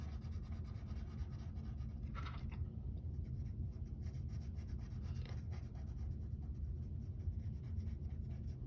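An ebony pencil shading on paper gives a soft, steady scratchy rub that runs throughout at close range, faint and continuous, with a couple of slightly brighter strokes.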